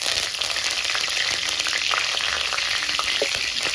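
Curry leaves frying in hot oil for a chicken gravy, with a steady, dense sizzle and crackle throughout and a few sharper pops near the end, close and alone.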